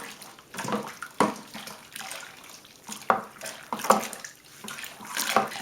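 Liquid Coopers IPA kit malt extract glugs from the can into a fermenter, a run of close splashy pours in uneven bursts, with no talking over them.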